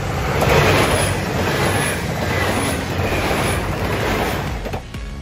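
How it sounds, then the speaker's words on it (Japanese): The Super Hakuto express train rushes past on the Inbi Line in a loud, close roar of wind and wheels, with a rhythmic clatter of rail joints, alone with no voices. "風とともに列車が通過をしてきました。"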